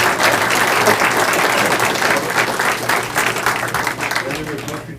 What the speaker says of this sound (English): applause for observers, please.